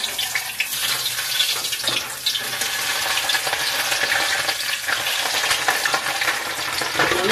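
Pork mask and ears fry in hot oil, a dense, steady crackling sizzle with scattered pops and spatters that runs loud and unbroken throughout, with no talking.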